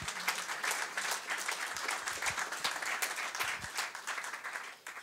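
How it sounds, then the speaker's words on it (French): A church congregation applauding the Lord during a worship service, with sustained, even clapping from many hands throughout, fading slightly at the end. "On peut acclamer le Seigneur."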